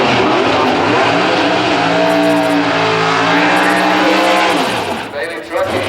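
A 2002 Grand Am Pro Stock drag racer at Houston Raceway Park roars loudly, its engine note climbing in pitch through a long pass, while an announcer speaks over it before the sound drops away.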